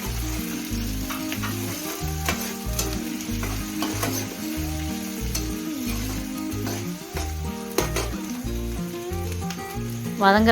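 Tomato sautéing in a pan gives a steady, fairly loud sizzle with stirring strokes, heard up close over background music.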